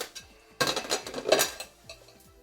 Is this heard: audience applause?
no